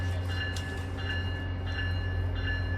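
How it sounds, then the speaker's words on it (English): A train runs past a station platform with a steady low rumble and rail noise. Faint high tones recur over it, close and continuous, and no one speaks. "Train approaching. Please remain behind yellow line."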